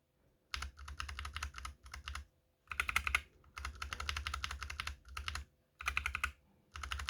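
Rapid clicky typing on unlubed Holy Panda and Novelkeys Box Royal mechanical keyboard switches, slightly scratchy in feel, played close in several bursts separated by short pauses, with no voices.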